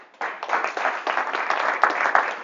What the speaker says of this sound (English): give our speaker, Satinder, a round of applause